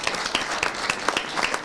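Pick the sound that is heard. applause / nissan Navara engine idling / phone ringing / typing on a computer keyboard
applause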